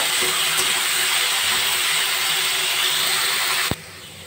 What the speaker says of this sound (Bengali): গ্যাসের ফ্লেমটা বাড়িয়ে 2 মিনিট আলু আর মিষ্টি কুমড়ো ভেজে নেব